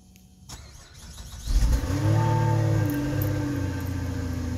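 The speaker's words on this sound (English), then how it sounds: "we're going to remote start this one so I can get an exhaust clip of it." Remote cold start of a car engine, either a 2016 Chevy Traverse or 1997 Jeep Cherokee: a starter crank, then the engine catching and settling into a loud, steady high idle nearby.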